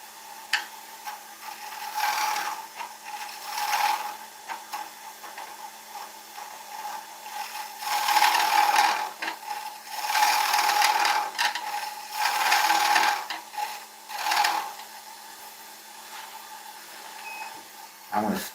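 A wood lathe spins as wood is turned, giving a steady motor hum with a tonal whine beneath repeated rough scraping bursts of cutting, fairly loud and close, with a brief pause and restart near the end.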